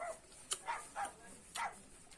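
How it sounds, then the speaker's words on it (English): A dog gives three or four short, soft barks spaced about half a second apart, faint and somewhat distant. "T for dog."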